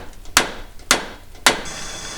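Three sharp metallic hammer blows land at an even pace on a BMW E46 subframe or differential during removal, each ringing briefly, close and loud.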